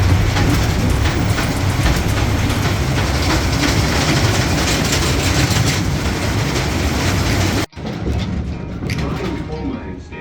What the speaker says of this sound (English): This will be a dark and loud train ride.